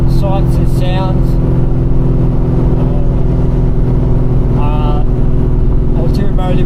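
A 1970 Ford XY Falcon engine idles with a steady low rumble throughout, with a few brief voices or higher tones breaking in now and then over the constant drone.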